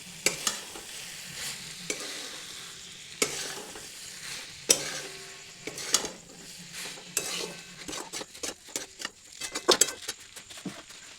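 Garlic Maggi noodles being mixed in a pan, soft sizzling broken by repeated scraping and clinking spoon strokes, irregular and growing busier toward the end, close by with no speech.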